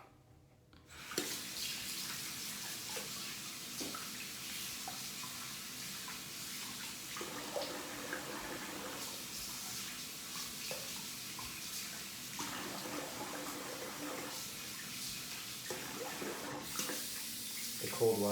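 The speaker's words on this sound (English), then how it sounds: "The cold water going." Cold water runs steadily from a tap, a continuous close splashing rush that starts abruptly and carries on evenly, with faint talk in the background.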